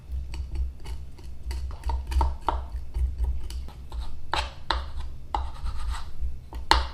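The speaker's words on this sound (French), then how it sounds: "je vais gratter comme ça avec le couteau pour détacher la chair de l'os" A knife scrapes chicken meat off the bone with repeated short, dry scratches and small taps on a cutting surface. The strokes come in an uneven run, close and fairly quiet, over a low hum.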